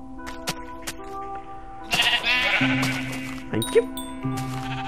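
Sheep bleat in a Minecraft game on the Xbox 360 edition, several short, clear bleats sounding over steady music and game noises, with a brief bit of speech.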